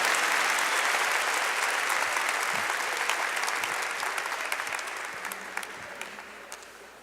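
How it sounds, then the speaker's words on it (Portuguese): A church congregation applauds for a group of youth, dense steady clapping filling the room and slowly fading toward the end. "Uma salva de palmas para eles"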